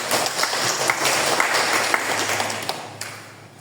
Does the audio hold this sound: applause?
yes